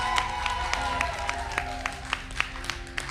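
A studio audience applauds the Roblox Creator Showdown champions with steady, dense clapping that holds throughout, with a few sharper claps rising above the crowd.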